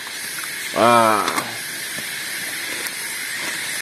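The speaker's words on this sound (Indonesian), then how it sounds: "Kita lihat itu sudah mendidih." Coffee with sugar boils down toward caramel in a pot over a fire outdoors, giving off a steady broadband hiss and bubbling throughout, with a brief loud exclamation from a man near the start.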